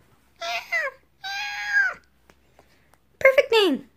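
A pet cat, just brought home, gives three drawn-out meows with short pauses between them, near and clear, and nothing else is heard in between.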